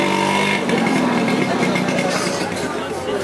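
Motorbike engines drone and rev close by in a busy Marrakech market street, mixed with crowd chatter and voices talking.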